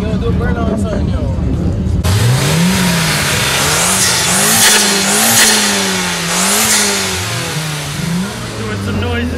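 A Mazda RX-7 doing a burnout at a car meet, the rotary engine revving hard in repeated rising and falling surges with a roaring, hissing tire-spin wash, loud and close amid crowd voices.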